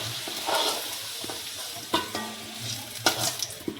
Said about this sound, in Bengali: তো এবার তুলে নেওয়া হচ্ছে আলু ভাজাগুলো